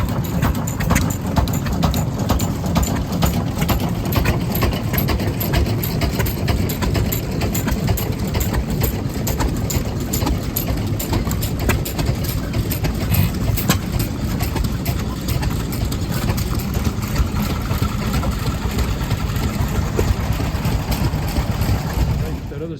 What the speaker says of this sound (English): Oh, back to some hit and miss engines.